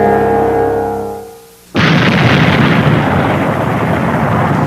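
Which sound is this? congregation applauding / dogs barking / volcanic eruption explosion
volcanic eruption explosion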